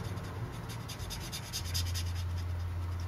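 Alcohol ink marker coloring over stamped paper, a soft continuous scratchy rubbing of the felt tip close up, steady throughout with no talking.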